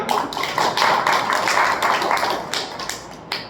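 A room audience at a Hindi-language class or talk breaks into applause, a dense burst of clapping lasting a few seconds before tapering off, loud and close.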